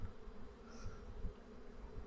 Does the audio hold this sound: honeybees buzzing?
yes